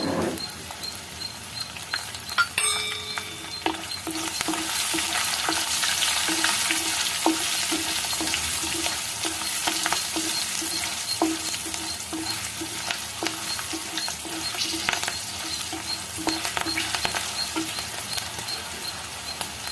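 Tempering spices for semiya lemon pulihora, including cumin, mustard seeds, green and dried chillies and turmeric, fry in hot oil with a steady, close, dense sizzle, along with rhythmic scraping and stirring taps throughout.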